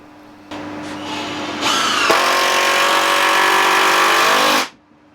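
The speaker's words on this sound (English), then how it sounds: "The seat slats were screwed in from underneath." A power driver whirs as screws go up through wooden slats into an outdoor bench seat from underneath, spinning up loud and close, rising in pitch and running steadily for several seconds before stopping.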